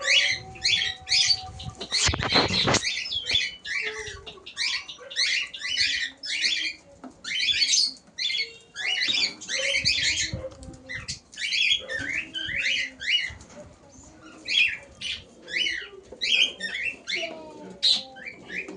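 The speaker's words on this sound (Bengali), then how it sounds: "দেখুন লক্কা পায়রাগুলো কেমন দেখতে, সবই সাদা, দু একটা ব্ল্যাক আছে" Lakka fantail pigeons at home give repeated sharp chirping calls and soft coos, with wing flutters and a loud flapping burst early on, the calls coming in quick clusters throughout.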